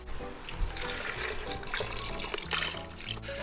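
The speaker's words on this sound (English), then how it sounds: "We're gonna take ourselves some beef stock and a little bit of water." Beef stock and water poured into a pot of beef for birria give a steady, close splashing and gurgling stream of liquid that runs unbroken for the whole stretch, with no talking over it.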